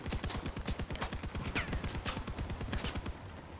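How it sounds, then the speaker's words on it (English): Ship weapons in the game LM-5 all fire together in a rapid, steady volley, closely spaced shots that stack into a continuous rattling barrage before it thins out near the end. "Let's line them all up so they can all fire at the same time."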